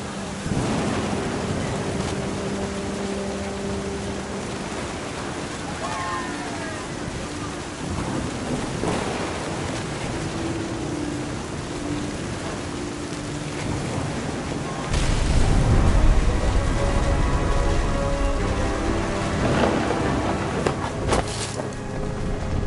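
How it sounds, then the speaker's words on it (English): Rain pours steadily while thunder rolls and crashes nearby, with a heavy, close clap hitting around two-thirds of the way through and rumbling on beneath the downpour. "The thunder sounded much too close and full of angry power."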